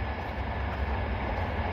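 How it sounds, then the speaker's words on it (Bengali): A train rolling along a nearby railway line, a steady low rumble with constant noise that does not let up. "তো আমাদের সামনে ট্রেন আছে"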